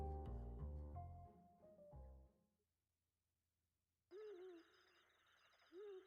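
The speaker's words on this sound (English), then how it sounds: "Owls? Hooting?" Owls hooting in the In Stars and Time video game, two clear hoots spaced apart in a quiet night scene after a fading musical chime.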